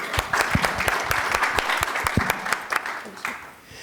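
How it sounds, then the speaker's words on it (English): A conference audience gives brisk, continuous applause to welcome a financial literacy panel onto the stage. Individual sharp claps stand out, and the sound tapers off near the end. "let's give a warm round of applause to our panel to join us today"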